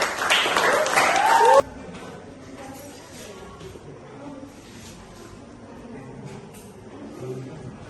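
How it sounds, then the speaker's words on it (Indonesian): A short burst of clapping and cheering from a group, cut off abruptly and followed by a quiet room. "Tepuk tangan untuk Sitri."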